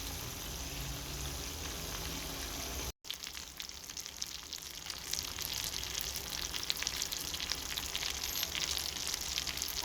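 Chicken barbecue fries in a pan on a stovetop with a continuous crackling sizzle, broken by a brief cut of silence, then resuming louder with busy popping spatter.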